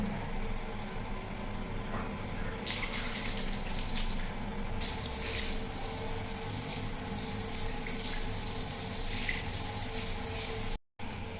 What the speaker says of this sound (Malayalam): ഇനി വെള്ളം ഒഴിച്ച് കാണിക്കാം